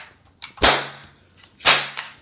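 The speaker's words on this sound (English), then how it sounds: "We got six shots of confetti." A toy confetti shooter fires twice in quick succession, each shot a sharp, loud pop followed by a short rattling tail, nearby and without talk.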